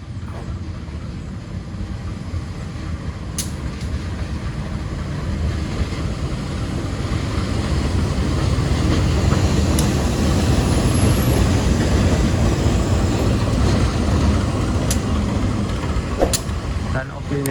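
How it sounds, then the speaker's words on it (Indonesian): Sri Tanjung locomotive rumbling into a forest station with leftover Sumatran parts, a steady heavy low drone building slightly and holding, with faint high squeals and clanks over it. "ini dia ya, lokomotif Sri Tanjung"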